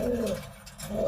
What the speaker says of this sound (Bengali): এগুলো আমার অনেক প্রিয় কবুতর